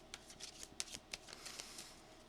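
Quiet, crisp snaps and flicks as cards are dealt out one after another in an irregular rhythm, heard faintly and up close, with no speech.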